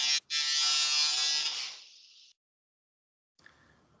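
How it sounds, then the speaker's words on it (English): An electric trimmer buzzes steadily and fairly close for about two seconds after a brief cut-out at the start, then stops, leaving silence and faint room noise. "somebody trimming something"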